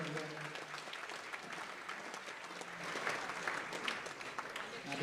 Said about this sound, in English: Another round of applause for Frank and for Ian.